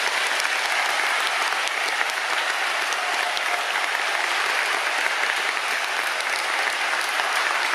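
Steady, full applause fills a hall from a large audience at sumo wrestler Toyonoshima's retirement ceremony during a bouquet presentation, continuous and even throughout with no voices on top.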